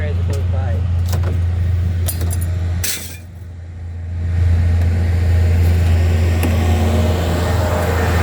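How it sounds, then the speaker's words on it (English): Small tractor rumbling past outdoors, a steady low engine hum that dips briefly and then swells louder as it passes close, with light metallic clinks early on. "but Debbie, video that little tractor as it goes by"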